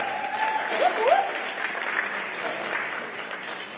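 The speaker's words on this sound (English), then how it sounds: "Round of applause." Audience applause for a panel of women leaders on stage at a civil rights roundtable, a steady wash of clapping throughout, fairly loud, with a brief whoop or voice rising near the start.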